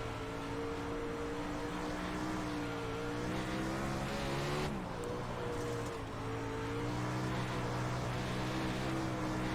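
360 sprint cars race on a dry dirt track, engines droning loud and steady with harmonic pitch dipping and rising as the cars run the bottom groove, continuous throughout.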